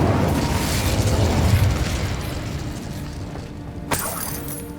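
The Incendio fire spell cast in Hogwarts Legacy gives a dense, roaring burst of flame that slowly fades, then ends in a sharp crackling snap near the end.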